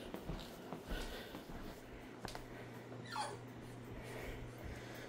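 A puppy whimpering and softly yipping outdoors, faint high whines and breathy squeaks scattered over a steady low hum, with one rising whine standing out.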